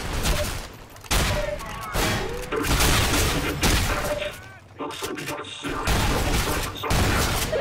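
Shotgun blasts and other gunfire in the video game Entropy Zero 2: loud, repeated shots and bursts come close together across the whole stretch, with brief dips between volleys.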